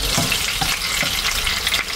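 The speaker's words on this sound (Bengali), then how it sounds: "তেলটা এক সাইডে নিয়ে এসে মাছটা সুন্দর করে ভাজার চেষ্টা করছি" A salmon steak frying in oil in a pan, giving a steady, loud, close crackling sizzle with a few soft scrapes as the oil is moved aside, without any talk.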